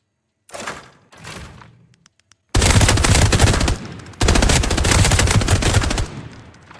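Rapid automatic gunfire from a weapon in the video game Arena Breakout Infinite, two loud sustained bursts of fast shots after a few quieter thuds, close and dominating, with no talking.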